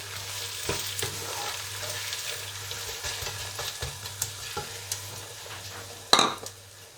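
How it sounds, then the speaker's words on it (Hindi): Onions sizzle in a pan for a chicken and okra masala, a moderate frying hiss with scattered spoon scrapes and clinks, a steady low hum beneath, and a sharp metallic clatter near the end. "अब हम डालेंगे प्याज भी और इनको भूनेंगे।"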